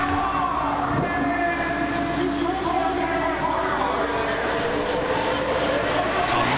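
A jet-powered golf cart does a burn down at Bristol Motor Speedway, giving a loud, continuous jet roar with a high whine that slowly rises and holds throughout.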